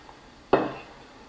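A single sharp clunk of a hot clay pot set down as it comes out of the oven, close and brief, with a short rattling ring fading after it.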